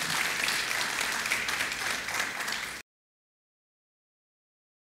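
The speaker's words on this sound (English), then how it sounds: "Would you please give Mikaela's family a round of applause?" Audience applause for a patient's family at a 2023 event, a dense, steady clapping from a crowd lasting almost three seconds before cutting off abruptly into silence.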